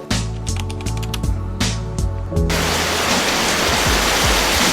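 Heavy rain during a typhoon roars as a dense, steady wash of noise in the second half, preceded by rhythmic tapping and drumming sounds; no talk.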